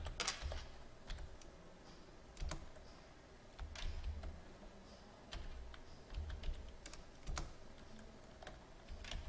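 Computer keyboard keys clatter as data is typed into Excel spreadsheet cells, with Enter pressed between entries; a steady, close, fairly quiet run of clicks with no talk.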